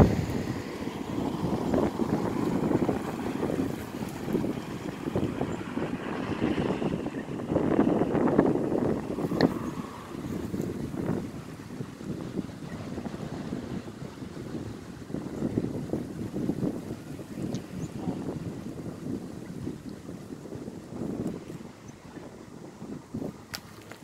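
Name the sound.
strong wind blowing outdoors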